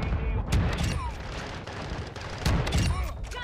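Rapid video game gunfire with repeated blasts that fit a shotgun, loud and close. The bursts cluster near the start and again past the midpoint, and voices talk over them.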